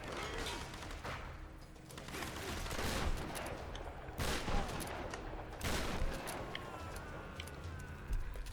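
Shotgun blasts in Tomb Raider (2013), several loud booming shots with noisy bursts and fading tails amid dense game action, at times overlapping.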